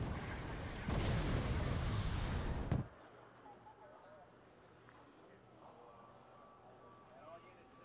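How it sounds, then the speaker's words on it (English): Gunfire in the strategy video game Wargame: Red Dragon, a Firetick unit shooting at ZTZ tanks in a forest: a loud, dense roar of fire for about three seconds that cuts off abruptly, leaving a quieter ambient battle background. "Firetick is firing upon some ZTZs in this forest."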